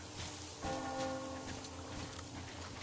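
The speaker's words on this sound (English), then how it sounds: "Do you hear that bell?" A church-like bell rings out once in the video game Metro Exodus, its clear tone hanging over a constant outdoor hiss of rustling and ambience before fading.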